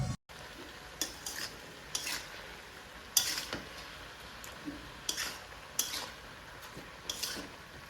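A spatula scrapes and stirs through a pan of frying spices with turmeric and salt, giving sharp, evenly spaced strokes roughly every second over a soft, steady sizzle, close and clear with no talk.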